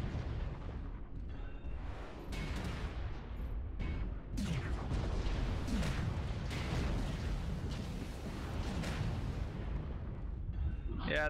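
Long-range missile volleys from a mech in MechWarrior Online, heard as rumbling bursts and booming explosions over a steady mechanical drone, fairly loud and repeated across the clip, with a voice talking at times.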